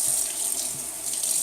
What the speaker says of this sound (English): I'll rinse off completely